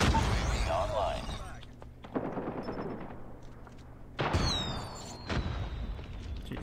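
A grenade goes off in Call of Duty Mobile as a sharp thudding blast, amid a few other loud bursts of gunfire and impacts in a busy firefight, with a player talking over the action.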